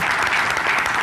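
Council members applauding the adoption of a 2022–2024 three-year programme, a brief burst of dense, even clapping from a seated group, loud throughout.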